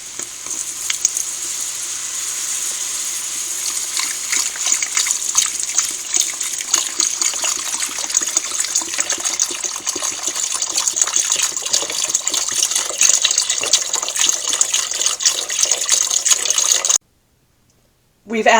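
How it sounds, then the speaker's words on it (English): Chicken stock pours into a hot pot of zuppa toscana, giving a steady, close sizzling hiss that runs unbroken for about seventeen seconds before cutting off abruptly. "Now we're going to add our chicken stock."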